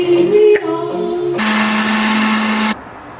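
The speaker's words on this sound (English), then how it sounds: "I just make it in my little ninja bullet thingy" A Ninja bullet blender whirs loudly as it blends a green smoothie, first a rising motor pitch, then a steady high-pitched grinding whine that cuts off abruptly near the end.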